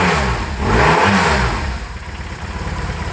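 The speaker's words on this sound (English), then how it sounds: "Let's give it a rev." The boxer engine of a BMW R 1150 RT motorcycle is revved up close, a loud quick rise and fall in pitch that settles back into a lumpy, rhythmic idle.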